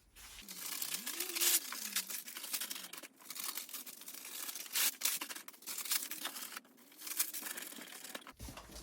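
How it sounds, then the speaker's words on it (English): Packing paper crumpled and stuffed around an item inside a shipping box, with a run of close crinkling and rustling bursts over several seconds, no talk. "And then I'm gonna put some packing paper on the sides."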